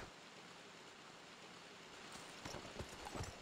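Horse hooves clip-clop faintly in a western video game, a few light hoof falls appearing only in the last second over a quiet background.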